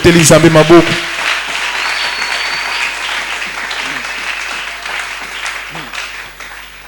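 A church congregation applauding, a broad wash of clapping that starts loud after a brief spoken line and slowly fades over several seconds, with scattered voices in the crowd.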